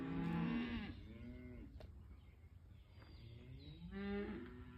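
Cattle on a farm being gathered and readied to move, lowing in long drawn-out moos, one near the start and another near the end, with restless rumbling low sound and no talk between.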